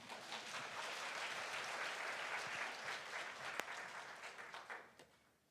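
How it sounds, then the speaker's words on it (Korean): A church congregation applauds during a sermon, a steady wash of many hands clapping at moderate distance that thins into a few scattered claps before dying away. "훌륭한 두 분에게 박수를 드립니다."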